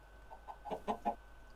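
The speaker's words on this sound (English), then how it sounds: "Gonna spawn in a chicken." A Minecraft chicken clucks in a short run of five quick, soft, rising clucks, heard alone and fairly close against a faint background.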